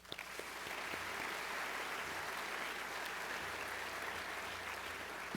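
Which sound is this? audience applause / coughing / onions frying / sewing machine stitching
audience applause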